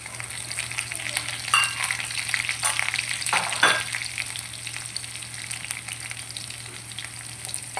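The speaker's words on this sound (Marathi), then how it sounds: "थोडीशी मोहरी टाकली, त्याच्यात आता आपण कढीपत्ता टाकू, मिरच्या टाकूया" Mustard seeds, curry leaves and green chillies crackle in hot oil for upma, a dense continuous sizzle with brief sharper pops and a few stirring scrapes near the start, close and unvoiced.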